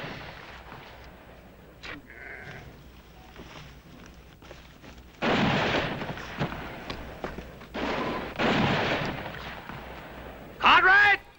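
Gunfire in a Western shootout, a few loud heavy shots and bursts standing out from quieter movement, with voices talking in between.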